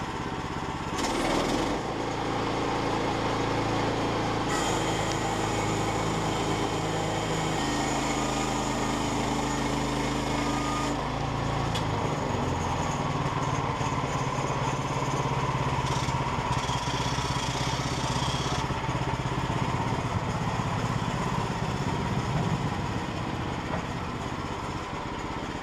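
A portable sawmill runs steadily throughout as the blade mills a cant, a loud continuous engine drone with a harsh buzzing cut, no talk over it.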